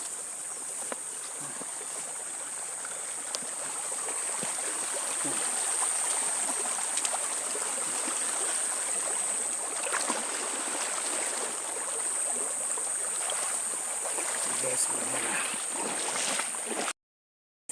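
A stream flows steadily outdoors in the countryside, a soft, even rush of water that holds for the whole stretch, with a high insect-like whine above it and faint scattered knocks and rustles nearby.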